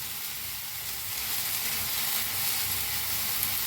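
Coriander, stems and all, roasting with tomatoes in a hot pan on a gas stove, giving a steady close sizzle and hiss that swells slightly partway through, with no talking.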